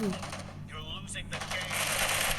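Rapid automatic gunfire from the PUBG battle royale video game crackles in dense bursts across the clip, loud and close, with a voice talking over part of it.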